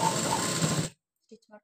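A sewing machine stitches a hook strip on the front of a high-neck collar blouse, running in one steady close whir for almost a second before stopping, followed by brief soft talk.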